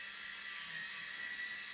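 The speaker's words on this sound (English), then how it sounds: "squaring all these off with my sanding band" An electric nail file with a sanding band whirs steadily and high-pitched while squaring off soft gel nail extensions, a continuous close buzz with no talking.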